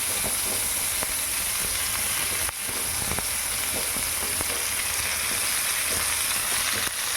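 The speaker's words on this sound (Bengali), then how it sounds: "একটা ফ্রাইং প্যানে অল্প সর্ষের তেল দিয়ে আগে আলু আর এঁচোড়টা কষে নেব।" Potato and jackfruit sizzle steadily in mustard oil in a frying pan, a continuous close hiss with faint scrapes of stirring and no talk.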